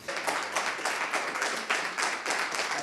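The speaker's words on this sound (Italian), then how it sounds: "È un applauso quello che accoglie Alberto Stefani, neoeletto presidente del Veneto" Applause breaks out to welcome Alberto Stefani, the newly elected president of Veneto: a crowd claps steadily for about three seconds with a few louder bursts, close and continuous, with no speech over it.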